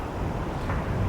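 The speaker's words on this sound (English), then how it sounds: "that wind's picking up a little bit now" Wind blows at a seaside fishing spot on the Seaham Spiles pier, a steady close rushing roar that buffets the microphone throughout, with no other distinct sounds.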